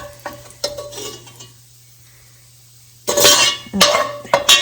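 Bacon crisping in a pot: a soft sizzle with stirring and utensil clinks against the pot, then a near-silent pause, followed by louder bursts of scraping and clattering near the end.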